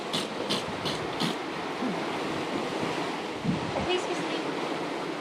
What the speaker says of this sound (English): This southerly swell just comes all the way up here.